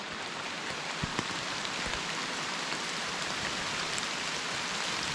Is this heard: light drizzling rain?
yes